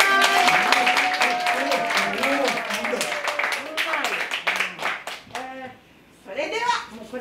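Audience clapping at a children's musical stage show, a dense burst of many hands close by, with children's voices and an adult speaking over and after it as the applause thins out.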